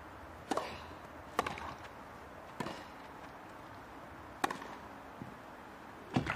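Sharp, crisp pops of a tennis ball struck hard by rackets in a professional women's grass-court match at the 2022 Berlin tournament, about six hits spaced around a second apart in a rally over a quiet crowd.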